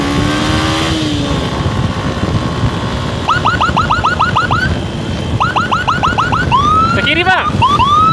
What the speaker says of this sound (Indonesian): Oh, ini dia ambulannya.